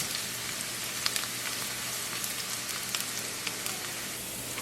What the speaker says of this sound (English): I'm going to add about 3 tablespoons of extra virgin olive oil to my pot. Let it heat up a little bit and add my garlic.